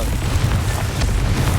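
A Confringo fire spell explosion in the video game Hogwarts Legacy, heard as a brief, loud, dense rumbling boom that holds steady throughout.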